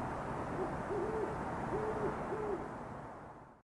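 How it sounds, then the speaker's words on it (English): An owl in the Midwest gives a soft series of four low hoots, evenly spaced over steady hiss, fairly distant and alone. "they have a very distinctive, plaintive, classic hoo-hoo sound"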